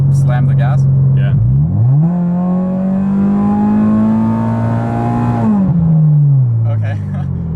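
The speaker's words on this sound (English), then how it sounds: "I'm going to do a pull with it just in drive. Just slam the gas." A modified Subaru BRZ floored in drive gives a loud, steady engine drone that climbs in pitch through a long pull, with a brief shift dip before it, and a voice speaks over it.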